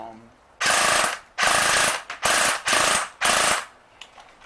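An airsoft AK gearbox cycles in five sharp, loud mechanical bursts separated by short pauses, each a rapid ratcheting buzz as it misfeeds BBs.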